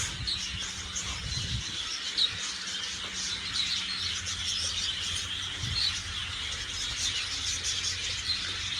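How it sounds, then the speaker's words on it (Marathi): Many birds chirp and twitter continuously inside an aviary in Mysuru. The high, overlapping calls form a busy, steady chorus at moderate distance, with no talking. "इथे पक्षी आहेत विविध, त्यांचं आपल्याला किलबिलाट ऐकायला भेटत असेल."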